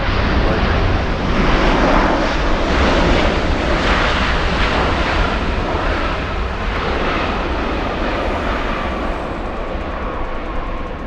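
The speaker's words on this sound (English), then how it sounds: "this is the American Airlines that we have taking off in the north for us" An American Airlines jet takes off from the north runway at Los Angeles LAX, its engines giving a loud, continuous broadband roar that holds steady across the whole stretch, with no talk.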